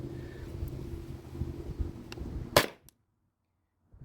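A Salt Supply S2 paintball marker running on a Tippmann TiPX CO2 tank fires a single sharp, loud shot outdoors over a low wind and engine rumble, then a short faint echo and near silence.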